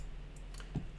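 A single soft mouse click on a save button in a game scenario editor, heard once near the end of the short stretch over a quiet background hum.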